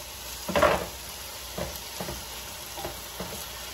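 Finely chopped garlic frying in a pan with a soft, steady sizzle, broken by a few brief stirring clatters, the loudest near the start and lighter ones spaced through the rest.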